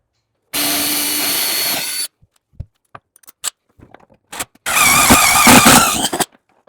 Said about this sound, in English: you're going to drill a hole right where your marks are